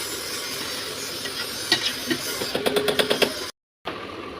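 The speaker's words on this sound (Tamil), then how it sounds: "சாப்பாடு கொட்டி நல்லா மிக்ஸ் பண்ணிவிடுங்க." Cooked rice being stirred into biryani masala in a pot, with a steady steamy hiss and a run of quick, rhythmic scraping strokes, then a brief cut to silence.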